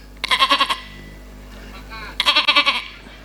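A voice imitates a baby goat bleating during a humorous sermon in Subang, giving two loud bursts of quick, wavering, high-pitched bleats separated by a short pause.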